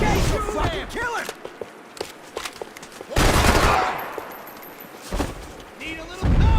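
Gunfire and explosive chaos from the action game Max Payne 3, dense shots and blasts layered under constant shouted voices and background music.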